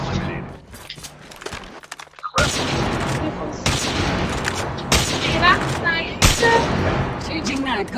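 Rapid gunfire and impact bursts in a shooter video game during a European tournament match, loud and dense with repeated volleys and sharp cracks over constant game noise.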